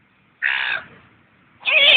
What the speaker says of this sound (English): Even Whiskey MC would approve this seagull.